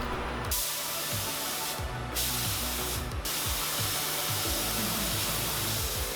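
Spray gun laying color coat paint onto a 1985 Pontiac Fiero 2M4 body, a loud steady airy hiss with a few brief pauses and a low rumbling hum underneath.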